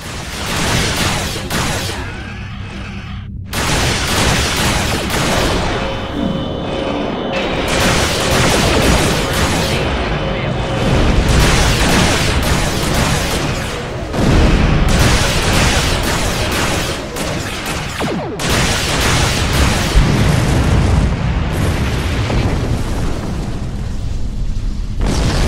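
Starship weapons firing in the space combat game Star Trek Online on PS4, a loud, dense barrage of booming blasts and explosions with short dips in between, with no clear talk.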